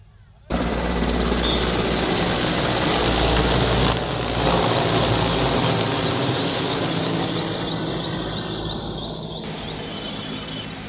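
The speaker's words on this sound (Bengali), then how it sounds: "আমরা এখন দেখি সেই হেলিকপ্টার কীভাবে সমীরউদ্দিন স্মৃতি কলেজ মাঠে ল্যান্ডিং করে" A helicopter lands on a college playing field in Baliadangi, Thakurgaon, its loud, steady rotor and engine roar starting abruptly and holding for about ten seconds, with a rhythmic blade chop and a crowd murmuring beneath.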